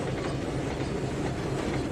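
A train runs steadily in the video game Trainz 2019, a dense continuous rumble of rolling wheels and rail noise as it pulls the full consist and gathers speed, with no talk over it.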